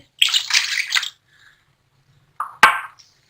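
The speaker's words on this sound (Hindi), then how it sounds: "इसके अंदर अब हम ये लेमन जूस ऐड कर देंगे" Lemon juice poured into cooled sugar syrup for lemon squash, a bright splashy liquid pour lasting about a second, then a short pause followed by two quick splashes or drips.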